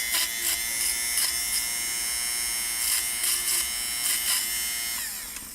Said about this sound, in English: sweater defuzzer. You can make nice, very gentle, smooth curves.